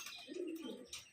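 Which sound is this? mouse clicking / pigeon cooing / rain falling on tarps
pigeon cooing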